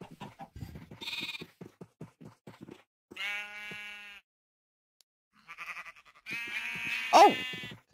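Minecraft sheep bleat in a few short, wavering cries spaced across a game scene, clear and near, with brief clicks and bursts of other game noise between them.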